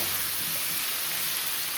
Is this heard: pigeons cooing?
no